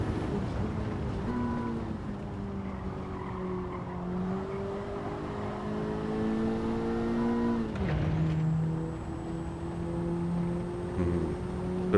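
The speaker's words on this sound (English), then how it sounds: "We're going to let the engine just pick up some revs" Race car engine in Gran Turismo 7 pulling up through the revs on a licence test, a sustained rising tonal drone with a brief gear-shift dip partway through, loud and close, no talk.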